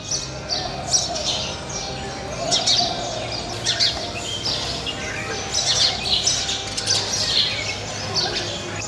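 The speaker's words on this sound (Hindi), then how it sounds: "घर के हर कोने में अब गौरैया के घोंसले नजर आते हैं और चिड़ियों की चहचहाहट से ये घर गूंजता रहता है" House sparrows chirp in quick overlapping bursts inside a home in old Lucknow where many nest, a dense continuous twittering with rising and falling flurries over faint background murmur.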